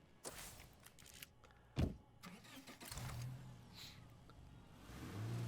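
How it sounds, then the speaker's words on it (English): A car in the zombie survival game State of Decay 2 opens with a door clunk and clicks, then its engine starts and revs up into a building drone as it pulls away, fairly close and alone. "So we're going to drive this car over there."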